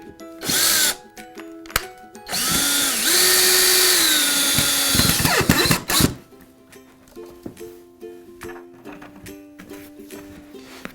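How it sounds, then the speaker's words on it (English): A power drill drives screws into the goalie end board of a CARROM foosball table during assembly, giving several loud whirring bursts of a few seconds each, the longest around three seconds, with quieter clicks and handling noises between and after them. "I'm just going to put the screws in so they're loose"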